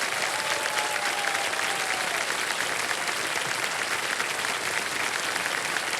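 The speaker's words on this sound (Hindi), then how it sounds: "तालियां बजती रहे इनके लिए।" Sustained, loud applause from the studio audience of a televised quiz game show, a continuous roar of clapping with a brief faint tone near the start.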